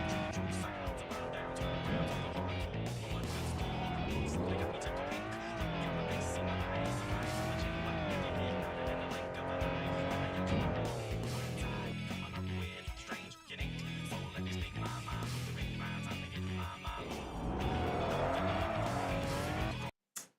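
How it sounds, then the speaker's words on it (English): A Honda NSX V6 in the video game Tokyo Xtreme Racer Drift revs hard and continuously on a hill climb, with rising and falling engine pitch and tire squeal, loud and close throughout. "Oh, the sound of that V6 as well."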